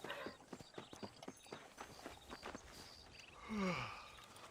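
Horse hooves clip-clop at a steady walking rhythm in the Red Dead Redemption video game, close and fairly loud, with a brief swelling voice-like sound near the end.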